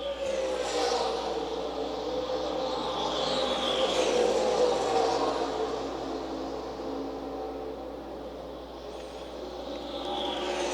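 Vintage race cars run three wide at Indianapolis Motor Speedway during an SVRA race, their engines blending into a steady, sustained roar that swells and fades slightly as they pass through the turn.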